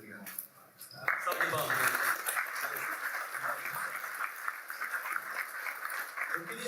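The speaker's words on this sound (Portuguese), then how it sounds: "Salve de palmas" A church gathering breaks into applause after a quiet second of talk: many hands clap in a steady, fairly close patter that keeps going to the end, with voices mixed in.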